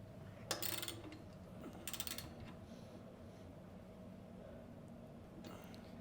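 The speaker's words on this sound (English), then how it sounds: "I'm gonna have to find some wrenches for these." Wrenches clatter and ratchet against bicycle parts during a mountain bike build, with a couple of short metallic bursts early on, then a quieter stretch and one more near the end over steady low background hum.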